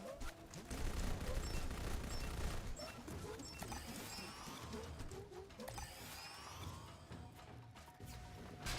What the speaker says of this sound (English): those are some big ass fucking turrets